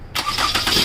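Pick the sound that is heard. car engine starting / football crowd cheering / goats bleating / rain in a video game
car engine starting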